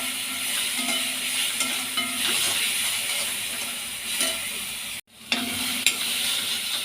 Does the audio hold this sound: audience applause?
no